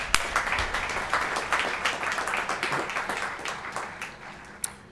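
Applause from the audience at the Aspen High School Class of 2021 graduation ceremony, a steady wash of many hands clapping with no voices over it, tapering slightly near the end.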